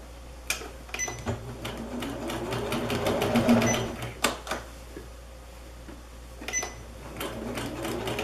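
A sewing machine stitches a utility bag in several short runs, with motor whirs separated by pauses and a few sharp clicks and clunks from the machine and fabric handling, fairly close and clear.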